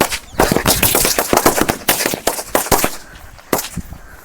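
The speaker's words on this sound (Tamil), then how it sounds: "அடுத்து பிஜ்லி சரம் வச்சிடலாம் வாங்க." A string of bijli firecrackers bursting in rapid, irregular sharp pops during Diwali, loud and close, thinning out toward the end.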